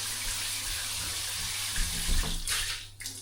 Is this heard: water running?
yes